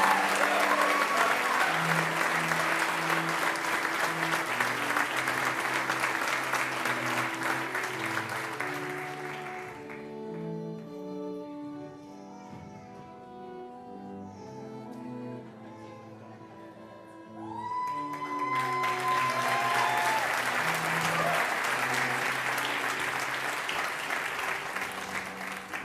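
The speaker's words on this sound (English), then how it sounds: "Let's give our bachelor's degrees a round of applause." A graduation ceremony audience claps in a large hall, sustained applause that fades out as music plays, then swells again into full, loud clapping near the end.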